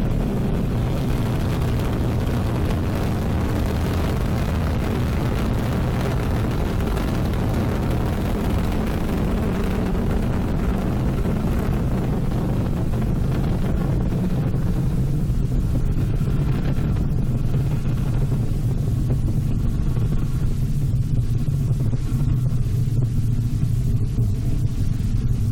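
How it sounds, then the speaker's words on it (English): An Ariane 5 rocket lifts off carrying the BepiColombo probe, its engines producing a steady, heavy low roar and rumble that fills the whole stretch, distant and continuous with wind-like texture and no voices. "Roar of engines, a lot of fire, and with BepiColombo on board"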